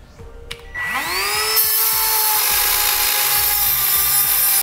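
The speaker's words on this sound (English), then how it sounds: "So we'll use a rotary tool with a cutoff wheel to make our cut." Rotary tool with a cutoff wheel enlarging a hole in the frame rail of a 2016 Jeep Renegade: a brief bump, then the motor spins up into a steady, loud, high whine that holds near and continuous.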